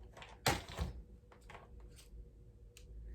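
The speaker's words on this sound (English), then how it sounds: "Just pull it out of my drawer and check." A drawer being pulled open at home, a sharp wooden slide and knock near the start followed by softer rattling and shuffling, close and fairly quiet with no talk.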